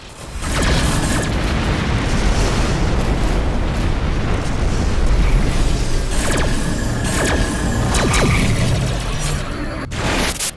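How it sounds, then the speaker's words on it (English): Missiles striking and exploding in the space combat game Rebel Galaxy, a continuous loud rumbling roar of blasts with sharper bursts layered on top, sustained throughout without talk. "Missiles inbound."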